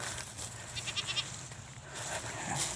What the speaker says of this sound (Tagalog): Hanggang doon yan mga ka-farming, yung mga kambing natin doon.